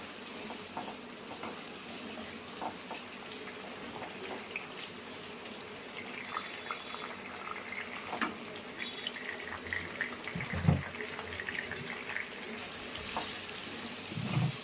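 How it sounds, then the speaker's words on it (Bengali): Cut potatoes frying in oil, a faint steady sizzle and crackle with scattered pops throughout, quiet and close, no talking. "কাটা আলুগুলো দিয়ে দিচ্ছি। আলুগুলো আমি ভালো করে লাল লাল করে ভেজে নেব।"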